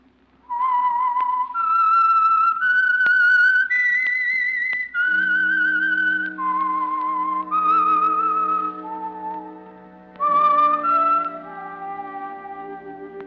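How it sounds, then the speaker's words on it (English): A lone human whistler performs the theme signal of The Whistler radio mystery program, a clear, loud melodic tune of sustained and sliding notes over a low organ-like accompaniment, with no speech. "That whistle is your signal for the Signal Oil program, The Whistler."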